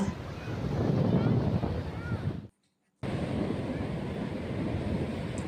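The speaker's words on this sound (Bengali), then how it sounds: "প্রচুর হাওয়া" Strong wind buffeting the microphone at the seaside on Digha's estuary shore, a loud, rough continuous roar with surf mixed in, broken by a half-second gap of silence; a voice is faintly present.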